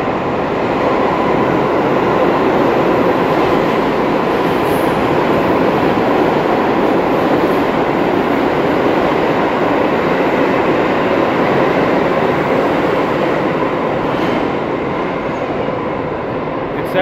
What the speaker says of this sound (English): Check, train coming.